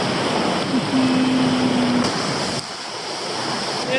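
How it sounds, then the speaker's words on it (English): A hot springs waterfall in Italy pours with a loud, close, continuous rushing roar on a cold morning, with a brief faint vocal hum partly buried in the water noise. "In a hot springs waterfall."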